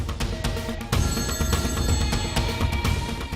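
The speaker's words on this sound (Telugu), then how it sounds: "రింగ్ అవుతుందన్నా." A telephone rings repeatedly on an outgoing call, its electronic ring pulsing steadily and loudly with no talk over it.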